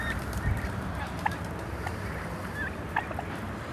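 Guinea fowl call outdoors on a farm, giving a few faint, scattered short cries over steady background noise.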